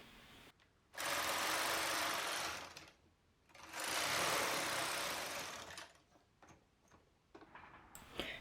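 A 30-year-old knitting machine knits a sweater, its carriage swept across the bed in two long, loud whirring passes with clicking mechanism, separated by a brief pause and followed by scattered clicks and knocks.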